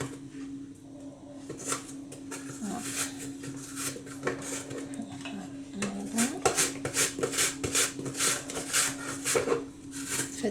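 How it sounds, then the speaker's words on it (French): Apples sliced on a mandoline straight into cake batter, a run of quick rhythmic scraping strokes that grow denser and louder toward the end, over a faint hum. "Et on va découper les pommes en petites tranches directement dans notre mélange."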